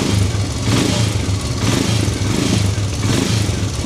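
A Royal Enfield Himalayan 411 motorcycle engine runs steadily and loudly close by, with a low throbbing idle and slight swells in pace, and no voices over it.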